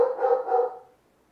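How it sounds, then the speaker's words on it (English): A single dog bark, close and loud, lasting under a second and trailing off into quiet with no other sounds. "with my dog acting like a crazy person"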